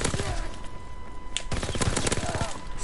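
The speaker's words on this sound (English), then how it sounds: "Even your shotguns ain't doing anything, Bob." Call of Duty WWII free-for-all match with shotguns blasting in rapid succession, dense overlapping shots and game noise filling the mix at a loud, constant level.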